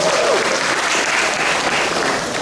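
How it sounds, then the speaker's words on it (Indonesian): A large crowd at the 26th anniversary gathering of the LPD village credit institutions in Badung, Bali, applauds loudly and continuously, a thick wash of clapping with no pauses. "Tepuk tangan untuk Badung"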